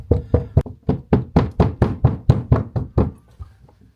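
Knuckles rapping on an interior wall while hunting for studs, about fourteen evenly spaced hollow knocks close by, alone with no talk, fading out at the end.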